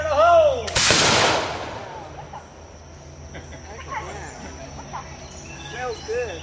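A gun blast goes off at a family association reunion in Greeneville, Tennessee, right after a warning shout. It is a single loud report that trails off into outdoor ambience with insect chirping.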